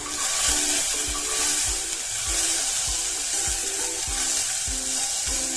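Cauliflower florets and peas fry in hot oil with pav bhaji masala, a steady loud sizzle close by, broken by a regular, rhythmic thud of a spatula turning the vegetables.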